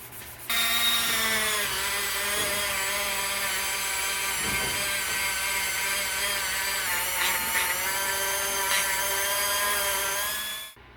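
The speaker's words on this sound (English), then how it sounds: "try to hit it with the Dremel tool and try to polish it up a little bit" Dremel rotary tool polishing the oil cooler of a wrecked Suzuki GSX-R 1000, a loud, steady high-pitched whine running close and unbroken for about ten seconds with slight pitch wavers.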